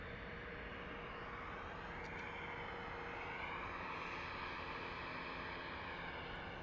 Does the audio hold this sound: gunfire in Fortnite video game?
no